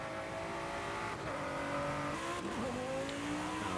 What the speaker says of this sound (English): I love the sound of this GT